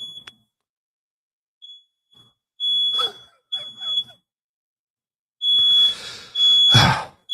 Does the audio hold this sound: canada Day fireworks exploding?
no